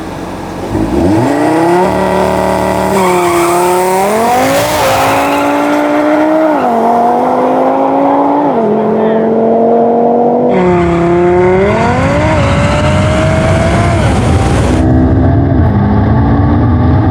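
A 1234 hp Lucid Air Sapphire and a 1000 hp Audi TT RS launch in a drag race, loud and close. The TT's engine roars through a series of rising gear shifts, with tire noise and a rushing whoosh, and no talk.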